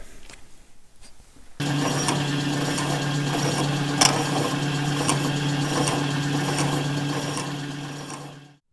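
A square key seat cutter mills a rounded spline pass on a PTO shaft. Quiet clicks give way to a machine starting up, then a steady, close mechanical hum with a tonal whine and small ticks, fading out at the end.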